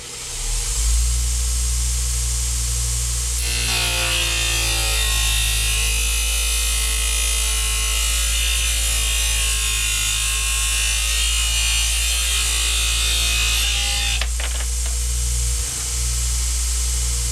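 An abrasive cutoff wheel grinds through a thick golf putter shaft, a loud, steady, hissing whine held for about ten seconds over a constant motor drone, then a short scrape as it finishes.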